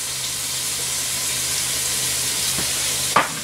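Onions sizzle and fry in a pan as they caramelize, a steady close hiss with a couple of brief stirring scrapes near the end.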